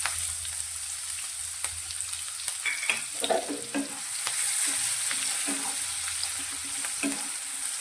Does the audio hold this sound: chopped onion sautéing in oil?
yes